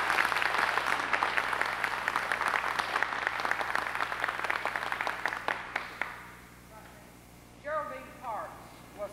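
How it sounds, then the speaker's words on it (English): At a school reunion in 1990, an indoor audience gives sustained, fairly close applause with dense clapping that fades after about six seconds, followed by scattered voices talking. "I'd like to just give you a round of applause right now."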